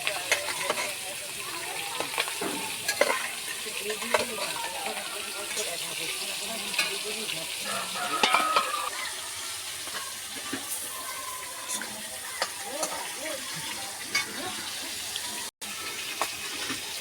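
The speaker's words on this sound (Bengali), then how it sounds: "এবার আমি লাস্টে পেটিগুলো আর লেজাটা ভেজে নেব" Pangas fish belly pieces and tail fry in a pan with a steady, soft sizzle, broken by scattered pops and clatter, fairly close and with no voices.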